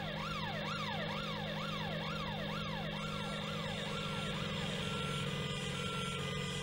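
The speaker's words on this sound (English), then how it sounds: "Ambulance." A wailing ambulance siren sweeps up and down in a steady repeating cycle, loud and continuous, then shifts to a steadier held tone near the end.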